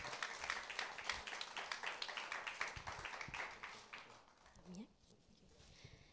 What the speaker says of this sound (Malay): Dengan rasmi tepukan tuan-tuan dan puan-puan.